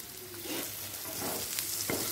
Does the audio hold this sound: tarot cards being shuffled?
no